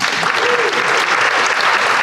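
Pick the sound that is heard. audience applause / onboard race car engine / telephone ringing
audience applause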